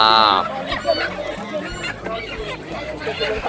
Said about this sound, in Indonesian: ada ayam Bangkok, ada di sini.